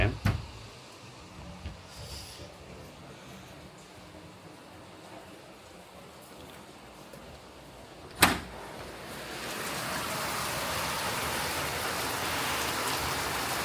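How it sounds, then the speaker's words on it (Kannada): Soft rain patter with a couple of sharp knocks, then a door or window opens and loud, heavy rain rushes in steadily, close and continuous. "ಯಾವ ರೇಂಜಿಗೆ ಮಳೆ ಬರ್ತಿದೆ ಅಂದರೆ ತಾಳಿ"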